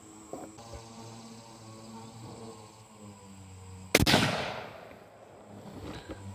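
A single sharp, loud report from a .257 Weatherby Magnum rifle firing ELD-X ammunition cracks out, then decays into a brief rolling echo over faint ambient hum.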